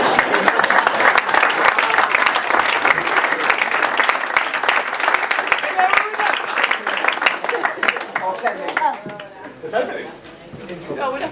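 Guests at an evening wedding reception applaud a speech with loud, dense clapping that continues steadily before gradually thinning out, with a few cheers and chatter in the mix.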